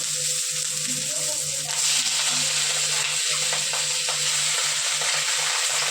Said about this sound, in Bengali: মাথাগুলো দিয়ে দেবো